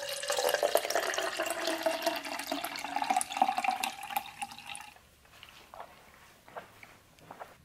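Dishes being washed under a running kitchen tap, with a steady gush of water and clinks of crockery for about five seconds, then quieter drips and handling sounds.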